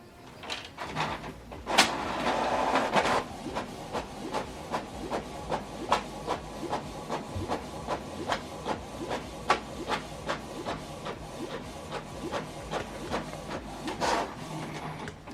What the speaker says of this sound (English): This document is now printing.